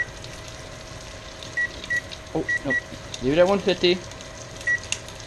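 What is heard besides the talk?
kitchen timer beeping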